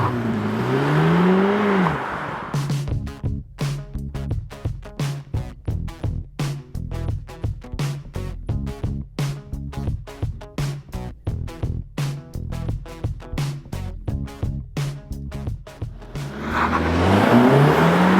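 An Audi SQ2 launches with launch control. A loud engine roar at the start gives way to a long run of rapid, evenly spaced stuttering pulses, then the roar swells again at the end.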